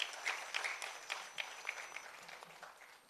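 An audience applauds after a Kathak dance performance at a recital, a faint, steady patter of clapping with a few sharper individual claps standing out.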